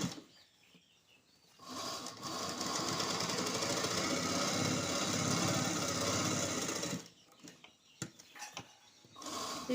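A sewing machine stitches an embroidery blouse in one continuous run of about five seconds, with a busy mechanical whirr. Quiet stretches with a few small clicks come before and after.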